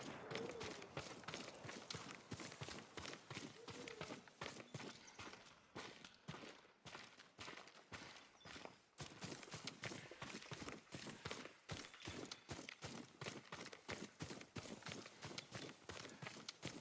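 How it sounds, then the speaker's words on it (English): Rapid, continuous hoof beats of Yuriko's horse in Ghost of Tsushima, a galloping rhythm under dense game ambience that runs the whole stretch, with no voices. "Yuriko's horse."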